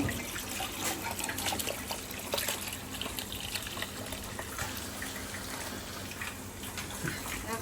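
Lukewarm milk pours steadily into a dish of batter, a continuous liquid trickle and splash at moderate level with faint background noise throughout.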